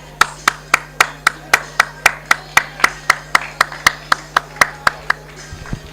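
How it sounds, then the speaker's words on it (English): Players at a Slough Town versus Biggleswade Town football match are clapped off by a lone nearby person, about seventeen sharp, evenly spaced hand claps in a steady rhythm, with a faint ambient hum behind. "I think they should all get a round of applause"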